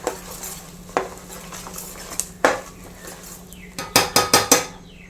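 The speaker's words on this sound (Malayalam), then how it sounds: "നല്ലപോലെ കായപ്പൊടി നല്ലപോലെ മിക്സ് ചെയ്ത് കൊടുക്കാം" A spoon stirs asafoetida powder in a pan for a Kerala-style mango perattu, scraping with sharp metallic taps, sparse at first then a quick run of four or five knocks, with faint sizzling beneath.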